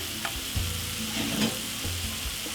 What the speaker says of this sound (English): And simply fry up this about 5 minutes.